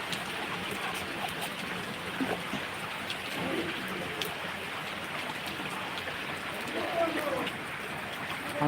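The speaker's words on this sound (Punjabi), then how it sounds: "ਹੋਰ ਕਿਤੇ ਕਿਤੇ ਹੋ ਰਹੀ ਹੈ ਬਾਰਿਸ਼" Heavy rain patters on surfaces throughout, a dense, even hiss that holds at a constant level from start to finish.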